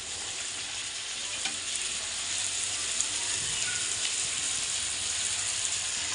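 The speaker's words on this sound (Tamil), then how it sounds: "ஏலக்காவும் இஞ்சியும் நல்லா கொதிக்குது" Tea with cardamom and ginger boiling in a pan, a steady bubbling hiss that stays even and fairly close throughout, with no voices.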